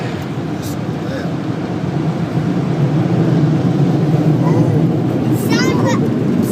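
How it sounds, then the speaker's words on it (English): Powerful air blower roaring at an automatic car wash, a loud, steady broadband rush that builds and holds throughout, with a voice faintly heard over it. "Go up here and then the big blower here."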